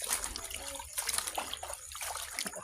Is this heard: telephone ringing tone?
no